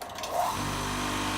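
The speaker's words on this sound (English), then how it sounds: "here's my tile cutter" A small electric tile cutter motor whirs up to speed and then holds a steady, fairly quiet hum. No one speaks.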